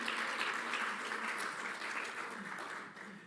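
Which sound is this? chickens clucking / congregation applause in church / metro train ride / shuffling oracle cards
congregation applause in church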